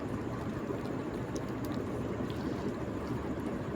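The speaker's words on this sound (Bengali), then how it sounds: "পরিষ্কার করে ধুয়ে নিচ্ছি।" Cut mushrooms are swished and rinsed in water, a steady close sloshing and splashing wash that runs without a break and with no talking.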